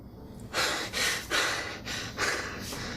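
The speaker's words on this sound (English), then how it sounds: "Gotta catch my breath" Heavy, ragged breathing comes in a run of about five loud gasping breaths, close and alone, from someone catching their breath in a kitchen while making a garlic shrimp sandwich.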